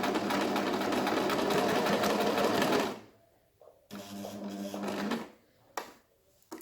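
A sewing machine stitching elastic onto a fabric face mask runs in a fast, steady whir for about three seconds, stops, then resumes in shorter bursts with pauses and a few clicks, close up.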